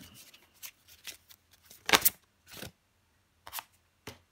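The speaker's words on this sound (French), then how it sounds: "je prends encore une petite carte pour vous" Tarot cards being shuffled and drawn by hand in a quiet room: soft, close riffling bursts and papery slaps spaced irregularly, with one louder, crisp flurry near the middle.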